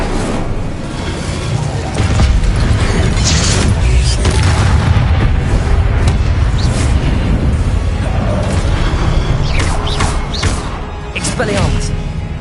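Fiery Incendio spell blasts in a Harry Potter video game, a loud sustained booming roar with heavy thuds that keeps going throughout, with voices mixed in.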